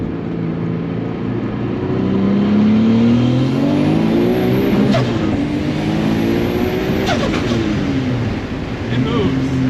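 A Honda CRX engine revs hard as the driver rolls into a drift attempt from second gear, its pitch climbing and dipping in loud, sustained sweeps up close, with a couple of sharp bursts midway.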